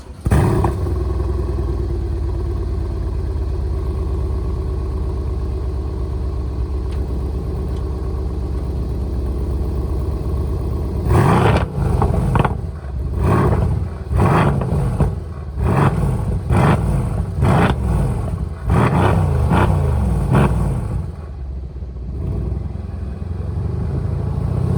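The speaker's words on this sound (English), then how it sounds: "Here's a clip of the exhaust right now." A Mercedes-AMG C63 S with its AMG performance exhaust idles with a deep, steady rumble, then breaks into a series of sharp, loud revs in quick bursts before settling back to idle.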